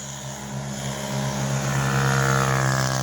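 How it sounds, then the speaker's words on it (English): An ATV four-wheeler passes on a country road, a steady engine drone with a low rumble that swells as it draws closer. "got a four-wheeler going by"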